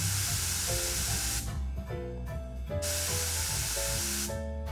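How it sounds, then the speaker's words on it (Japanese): A strong hiss of compressed air bursts from an airbrush fed by a DePes DuoCube high-pressure compressor, in two long sprays separated by short pauses, loud and close with no talking. "そしてちょっとエアを出してみると"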